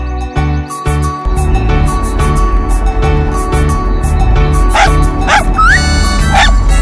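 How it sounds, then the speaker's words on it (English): A small puppy on a road yips and barks repeatedly in quick bursts over loud continuous music, with a few high whimpering squeals near the end. "There's a small puppy on the road."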